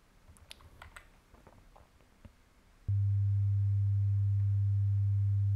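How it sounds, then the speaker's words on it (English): A few faint clicks and taps, then a loud, steady low pure sine wave tone starts abruptly and holds unchanged to the end. "we hear a sine wave, and it's a very, as I said, like very iconic, very clean tone"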